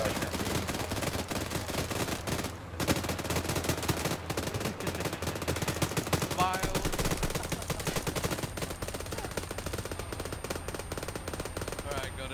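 Video game gunfire: rapid, continuous automatic fire that runs dense and loud for the whole stretch, with other game noise mixed in.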